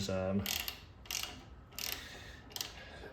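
A fitting on a Mi-T-M HSP-3004-3MGH hot water pressure washer being snugged down with a wrench, heard as four short ratcheting bursts spaced about a second apart, close and fairly quiet.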